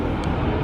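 The world's biggest commercial airliner rolls slowly along an airport taxiway, its engines giving a loud, steady, broadband roar that stays constant throughout.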